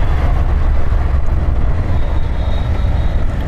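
Steady roadside traffic near Infosys metro station in Bengaluru, a continuous loud low rumble of passing cars, trucks and buses with a faint higher whine drifting in toward the end.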